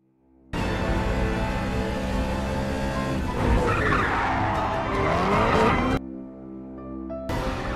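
Street race cars roar with engines and tyres squealing in long skids. The sound is loud and close, swells midway, then cuts off abruptly and briefly resumes.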